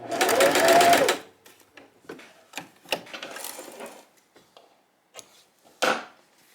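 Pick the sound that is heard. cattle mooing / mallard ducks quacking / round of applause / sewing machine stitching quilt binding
sewing machine stitching quilt binding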